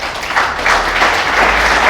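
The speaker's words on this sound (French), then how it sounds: "je vous prie d'applaudir pour vous-même parce que vous êtes là ce soir." An audience at the inauguration of a development platform in Sankuru bursts into loud, sustained applause, a dense wash of many clapping hands that fills the whole stretch without a break.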